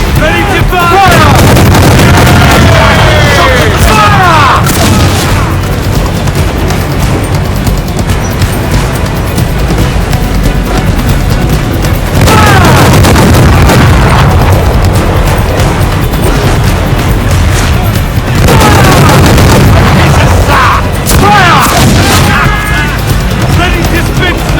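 Ship cannons firing in Assassin's Creed Black Flag: loud booming volleys roll out in waves over constant sea and battle noise, with crew voices shouting across the barrage.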